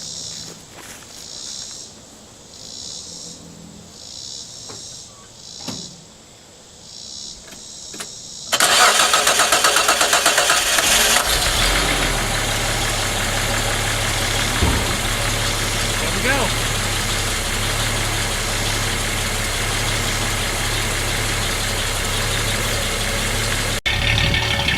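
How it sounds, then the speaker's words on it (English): A 1976 Datsun 280Z engine cranks over and catches, then settles into a steady, loud idle that runs close by for the rest of the stretch, with a few footsteps and handling sounds beforehand. "let's go see if this thing will crank"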